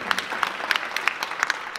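An audience at a literary prize ceremony claps in a short burst of scattered, uneven handclaps, fairly close, with no voices over it.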